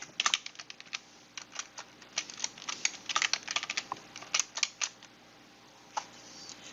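A password tapped out on a computer keyboard, a brisk run of close, crisp key clicks in uneven bursts with short pauses, no voices over it.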